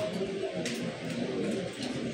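A pair of pigeons, a female and a male, coo softly in low repeated throaty pulses, fairly faint and close, with a faint background hum.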